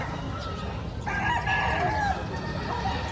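Rooster crowing among chickens at a poultry auction market, a clear drawn-out crow rising over a steady crowd and farmyard din, heard without speech.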